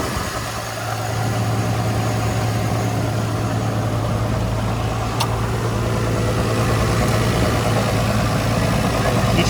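A Nissan R34 Skyline sedan with a factory downpipe idles steadily and quietly, a low even engine hum with a faint whirr of fans, close by and unbroken.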